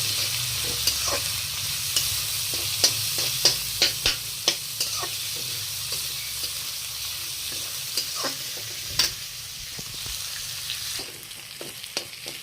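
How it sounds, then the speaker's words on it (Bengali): Chopped onions fry in a pan and are stirred, giving a steady close sizzle with a series of sharp spatula scrapes and clicks spaced through it. No one speaks. "পেঁয়াজটা দিয়া ভালো করে ভাজি ভাজি করে নিবি"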